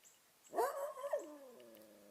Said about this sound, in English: trying to determine if it's a friendly dog or a wild dog